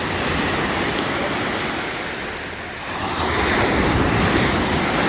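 Ocean waves roar steadily at close range at Riomaggiore in Cinque Terre, a dense wash of surf with heavy wind buffeting the microphone and a brief lull midway.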